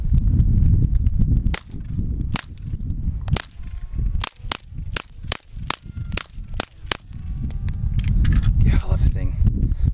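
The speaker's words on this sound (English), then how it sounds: "a couple rounds of 9mm through the Osprey 45" A few suppressed 9mm rounds fired through an Osprey 45 suppressor, sharp individual cracks spaced irregularly over steady background noise, with talking in the scene.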